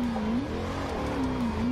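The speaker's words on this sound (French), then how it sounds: "Le raccord, coup de gaz volant." Engine of a BMW E30 Touring revving on a throttle blip during a drift on a circuit, a loud steady engine note that dips and rises in pitch, close and continuous with no talk.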